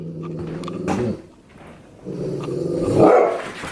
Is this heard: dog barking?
yes